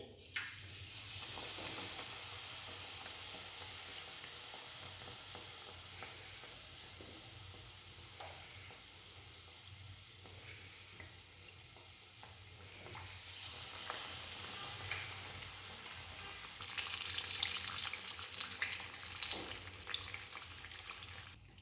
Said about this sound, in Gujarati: હવે બ્રેડ પકોડા તળી લઈએ